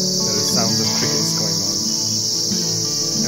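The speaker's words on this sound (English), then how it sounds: "There is sounds of crickets going on." Dense, steady chirping of crickets in an apple orchard in a Kashmiri village fills the air continuously, loud and close, with a low hum of other activity beneath.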